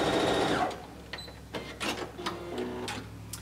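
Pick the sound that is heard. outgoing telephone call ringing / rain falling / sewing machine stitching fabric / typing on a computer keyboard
sewing machine stitching fabric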